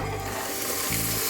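A mashed ragda mixture is poured into a hot pan of spices and stirred, giving loud, continuous sizzling and hissing close by, with scraping stir sounds mixed in.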